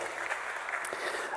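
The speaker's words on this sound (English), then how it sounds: "give yourselves a hand of applause" Audience applause after a call to give themselves a hand, a short dense wash of clapping that runs steadily throughout.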